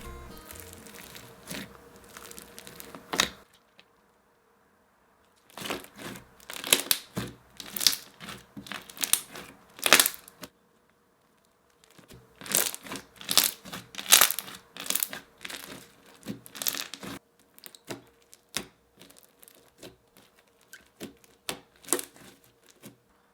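Sticky slime mixed with foam beads is squished and kneaded close up, producing crackly, crunchy popping in irregular bursts with a couple of quiet pauses between handfuls.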